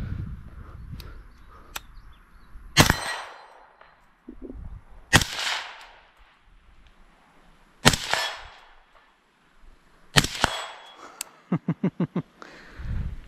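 Rifle fitted with a Scalar Works LEAP 12 mount fires four sharp, widely spaced shots, then a quick string of five lighter snaps close together, each loud and near against a quiet outdoor background.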